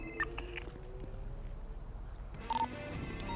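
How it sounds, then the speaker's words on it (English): A suspect's phone lying on the floor rings during a police shootout in a video game, a short repeating electronic ring tone heard faintly under a steady, busy game background. "one of the suspect's phone's ringing right here on the floor"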